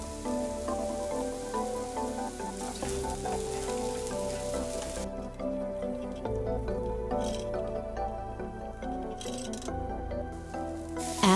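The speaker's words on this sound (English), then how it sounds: "Add dry mint and mix." Chicken being stirred with dry mint in a pot gives soft, wet squishing and gentle bubbling sounds, continuous and fairly quiet throughout.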